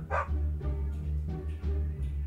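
A dog barking in a video game, a sharp bark followed by several softer yips over a low, steady droning game background, fairly close.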